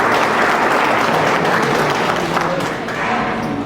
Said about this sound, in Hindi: एक बार तालियां बजाएंगे सारे लोग।